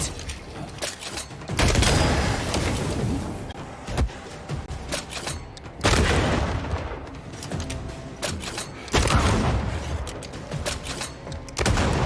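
Gunfire in the video game Banishers: Ghosts of New Eden, loud bursts arriving in three or four heavy volleys spaced a few seconds apart, with scattered sharp reports and mechanical clatter filling the gaps.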